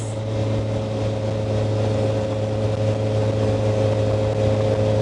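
A Kawasaki ZX-4R motorcycle engine drones steadily and loudly at constant revs, a continuous close buzzing hum with no pauses and no talking.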